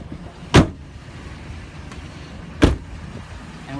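Two solid door slams on a 2010 Chevy Silverado four-wheel-drive pickup truck, close and loud, about two seconds apart, with quiet background between them and no talk.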